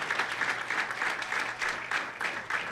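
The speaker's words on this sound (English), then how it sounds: "How about a great round of applause for our opening match" Sustained applause from an audience at the PWBA Wichita Open bowling stepladder finals, steady clapping with rhythmic swells filling the hall for the whole stretch.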